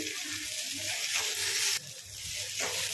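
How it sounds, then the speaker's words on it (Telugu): Ginger garlic paste and curry leaves fry in hot oil with a loud, steady sizzle that briefly dips and swells, as if stirred, with no voices. "ఈ అల్లం వెల్లుల్లి కరివేపాకు మంచిగా వేగనియండి నూనెలో"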